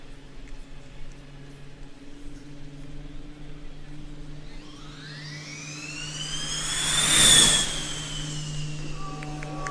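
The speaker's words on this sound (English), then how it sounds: "I will definitely miss the sound of these combustion accelerating next year" A Formula Student combustion race car accelerates past at a competition, its engine climbing through the gears, a rising whine that swells to a loud close pass around the middle and then fades.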